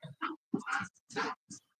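A pet dog named Skits barks on command several times in a quick series of loud, close, deep woofs, each short and separated by brief pauses, with no talk over them.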